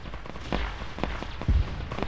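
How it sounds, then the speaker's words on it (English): Gunfire in the video game Arma 3, in a Warhammer 40k setting: a few sharp, separate shots and thumps at irregular intervals, with one heavier low boom near the end. "I don't like the gunfire"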